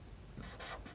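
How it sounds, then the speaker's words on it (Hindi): Pen strokes on paper while a trigonometry problem involving square roots is worked out, three short scratchy bursts close by over a quiet room. "तो इसको चलिए लिखते हैं पहले"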